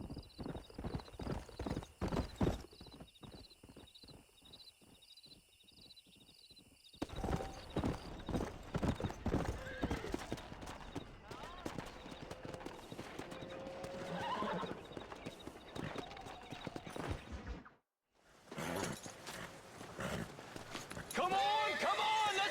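Horse hooves clip-clop rhythmically in the video game Red Dead Redemption, joined by a stallion's loud neighs and whinnies. Voices talk over the galloping, and there is a brief drop into silence near the end.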